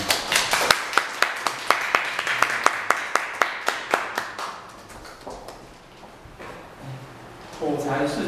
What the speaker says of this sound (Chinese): 让我们来掌声欢迎